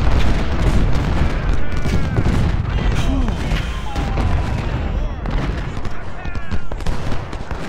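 Cannon artillery fire in the Civil War strategy game Ultimate General: Civil War, a continuous barrage of booming, overlapping blasts that stays loud throughout.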